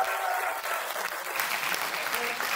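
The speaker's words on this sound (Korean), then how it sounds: "다시 한번 격려와 응원 박수 부탁드리겠습니다." Crowd applause at a rally launching a nationwide petition campaign against nuclear phase-out, a steady wash of many hands clapping together, moderately distant and sustained throughout, with faint voices underneath.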